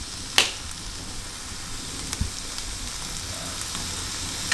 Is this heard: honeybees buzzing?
no